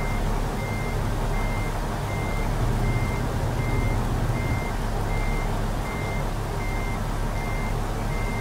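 A truck's reversing alarm beeps steadily at an even pace in a video game while backing to hook up a 48-foot refrigerated reefer trailer, over a loud constant engine drone.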